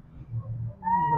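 A cat meows, a single short call near the end that rises out of low background rumble, close and moderately loud, recorded during treatment of a maggot-infested wound.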